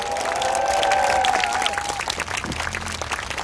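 A crowd at a union rally in Jeonbuk claps and cheers, dense applause holding steady throughout with a sustained tone sounding over the first two seconds.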